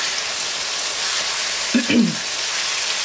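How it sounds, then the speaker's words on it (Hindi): Ground tomato masala paste fries on a high flame in an egg curry pan, making a steady, close sizzle throughout, with a short moment of voice partway through. "और हाई फ्लेम पर इस मसाले को यहाँ पर थोड़ा सा भूनेंगे एक से दो मिनट के लिए चमचा चलाते हैं"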